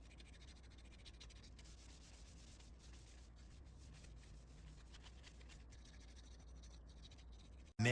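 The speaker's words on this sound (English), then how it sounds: "once the coating is soft enough, we can just scrape it off" Softened coating is scraped off an Infiniti EX35 steering wheel trim bezel in a continuous faint, close, gritty rubbing that runs steadily before a sudden loud knock at the very end.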